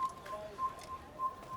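Short, bright bird whistles repeat every half second or so, faint over a soft ambient bed in the Assassin's Creed video game.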